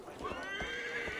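A horse whinnies in the Assassin's Creed Valhalla game, a single rising-and-falling neigh over soft clip-clop hoofbeats, close and fairly loud with no voices.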